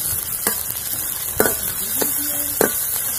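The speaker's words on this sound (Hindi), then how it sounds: "अब मैं इसमें डालूंगी अदरक लहसुन का पेस्ट। इसका कच्चापन दूर होने तक इसे भून लेती हूँ।" Ginger garlic paste fries with onions in a pan, a loud steady sizzle broken by several sharp scrapes and clacks of a stirring spoon.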